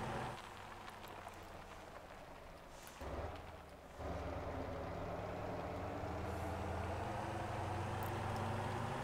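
Truck engine in the video game Motor Town, a steady low drone that drops briefly, then climbs to a higher, sustained revving pitch, heard alone with no voices.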